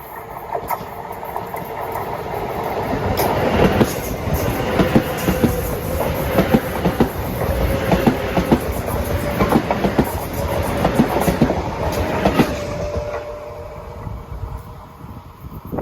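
A Metro-North commuter train from Poughkeepsie to Grand Central rolls past on the Hudson line, its steady rumble and repeated wheel clicks loud and close for most of the pass before fading near the end, with some wind noise.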